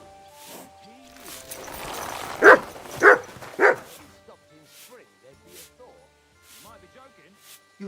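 A dog named Mutt gives three loud, evenly spaced barks close by, with softer yips and whimpers around them.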